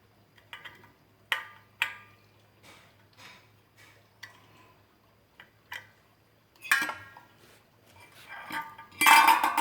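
Nuts being tightened during assembly of a classic 42-inch five-blade ceiling fan with three lights: sharp, scattered metallic clicks and clinks close by, separated by quiet gaps, with a longer louder rattle at the end.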